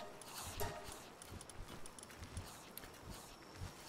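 A ridden Grintail mount in Palworld plods along with a steady, soft clip-clop of footsteps at an even walking rhythm, fairly faint and close, under a background hum.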